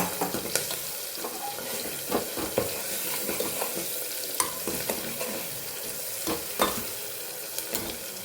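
Garlic cloves, curry leaves and green chillies sizzling in hot oil, a steady hiss dotted with crackles and occasional utensil clicks, close by and moderately loud.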